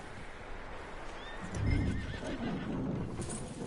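A horse whinnies and snorts in a Red Dead Redemption II game scene, with hooves clip-clopping nearby, moderately loud and alone, with no talk.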